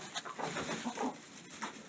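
Hens murmuring and clucking softly inside a backyard chicken coop with straw-lined nesting boxes, a steady low cackle of several birds close by with no talk.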